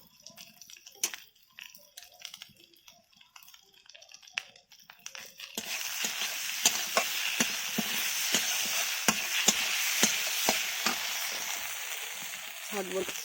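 Quiet clinks and scrapes at first, then a steady sizzle of spices frying in a pan rises, with occasional stirring taps over it.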